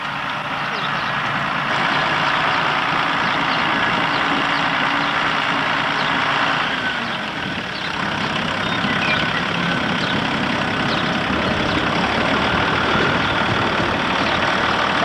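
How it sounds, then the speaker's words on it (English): A farm tractor pulling a disc harrow across a field, its heavy engine droning steadily and loudly for the whole stretch with a brief dip midway, no talk over it. "There's Grandpa in his big tractor."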